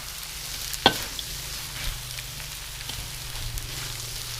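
Pork and Chinese cabbage stir-frying in a hot pan for dry sukiyaki: a continuous close sizzle with scraping stirs and a sharp clink near the start, steady and loud with no voices.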